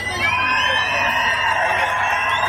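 A loud, dense crowd at a political rally in Nashik cheers continuously, with a long sliding whistle cutting across the steady roar of voices and clapping.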